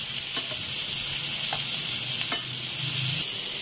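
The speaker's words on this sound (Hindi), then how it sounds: "यहाँ मटन देखें हमारा फ्राई हो चुका है दोनों साइड से अच्छी तरह से।" Mutton pieces frying in hot oil in a pan for an Afghani mutton gravy, with a loud, steady sizzle throughout and a few faint clicks of stirring.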